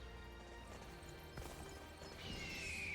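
Horse hooves in the Dynasty Warriors video game: a faint clip-clop of galloping under a busy game soundscape with clashes, a sharp hit midway, and a rising whoosh at the end.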